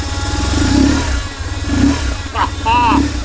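A motorcycle with a horizontally opposed engine revving in three rising bursts over a low, throbbing idle, close by, with brief voices breaking in near the end.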